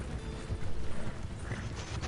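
Hooves of a horse named Gary clip-clop steadily in a video game, a moderate, even trot with faint creaks and clicks behind it.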